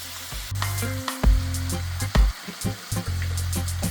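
Callaloo sizzles and crackles as it is stir-fried in a pan on a stove set to high, with stirring clatters and scrapes breaking up the steady hiss, close and without talk.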